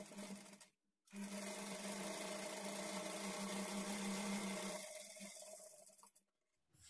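A sewing machine stitches a high neck blouse in one long continuous run of several seconds, steady and close, starting after a short pause and ending before another stop.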